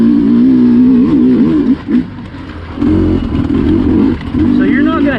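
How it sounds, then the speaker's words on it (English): A Sherco SC250 two-stroke cross-country dirt bike lugs at low speed in third gear around a corner, its engine burbling loud and near with small rises and dips, while a person talks over it. "let's see how it lugs around this corner at a slow speed"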